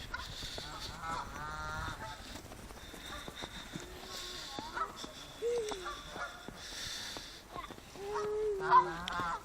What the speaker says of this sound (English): And Canadian geese as well